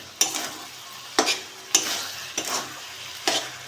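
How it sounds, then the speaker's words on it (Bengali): Chengo fish stir-fried in oil in a pan for chochori, with a steady sizzle broken by five sharp scraping stirs spaced about a second apart, close up and with no talking. "মাছগুলো দিয়ে একটু নেড়ে চেড়ে নিয়েছি"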